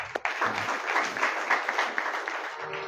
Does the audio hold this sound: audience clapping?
yes